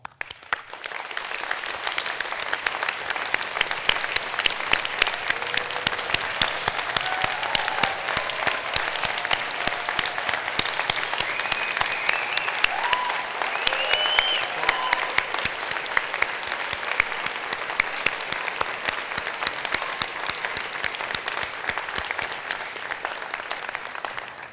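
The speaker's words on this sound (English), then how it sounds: "I would like to invite you to stand, if you are able to, for a round of applause" Steady, dense applause from an audience at a medical school white coat ceremony, a large crowd clapping evenly for over twenty seconds, sustained and fairly close, with no talking over it.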